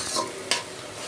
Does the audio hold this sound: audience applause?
no